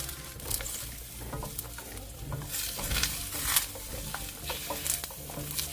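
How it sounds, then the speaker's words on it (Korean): King oyster mushrooms stir-frying in cooking oil in a preheated pan over medium heat, a soft steady sizzle with light pattering and occasional scrapes of a utensil stirring against the pan, fairly quiet and without speech. "예열된 팬에 식용유 2큰술을 두르고 새송이버섯을 넣고 중불에서 볶아줍니다"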